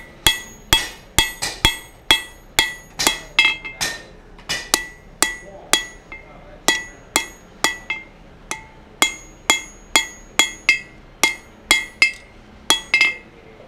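A blacksmith hammers hot steel while forging a hammer eye drift, sharp ringing strikes repeating at a steady, regular rhythm throughout, loud and close, with a metallic clink on each blow and no talk.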